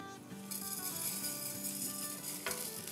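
Coriander seeds, cumin and dried red chillies dry-roasting in a pan for kababs, a steady close scraping stir with light crackle and clinks, continuous and fairly loud with no talk.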